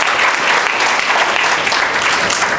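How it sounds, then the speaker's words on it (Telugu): A church congregation claps loudly and steadily during a sermon service, many hands together in a dense, unbroken burst of applause, close and full. "గట్టిగా చప్పట్లు కొడదాం"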